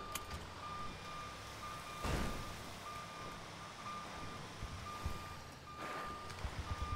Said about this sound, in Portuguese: De ré, caminhão.